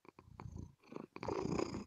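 A cat purrs close by, soft rumbling purrs in uneven stretches with brief pauses between breaths.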